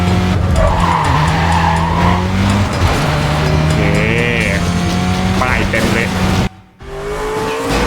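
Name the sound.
car skidding and engine in video game Need for Speed Carbon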